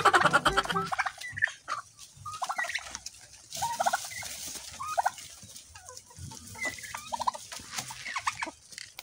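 Rhode Island Red chickens, a rooster among hens, cluck and call in a barnyard with overlapping, irregular bursts of fowl vocalizations at moderate distance.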